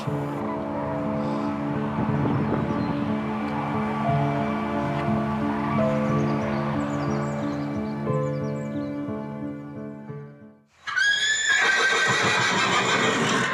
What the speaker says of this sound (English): And a horse with historic Kentucky connections.